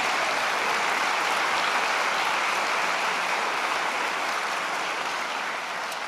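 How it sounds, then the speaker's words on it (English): Sustained, dense audience applause at a university convocation ceremony for the MacEwan University Big Band, a broad even roar of many hands clapping at constant loudness throughout with no talk. "Let's give one more big round of applause"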